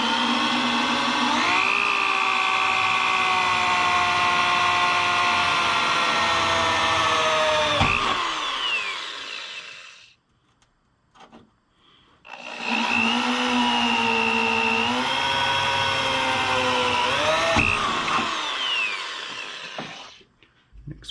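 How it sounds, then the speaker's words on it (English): A drill with a stopper bit bores a hole into a Toyota Tacoma hood in two long, loud, whining runs of about ten seconds each, separated by a brief quiet pause. "we'll line it up on that hole and drill, and then that stopper will stop us before we go through too far"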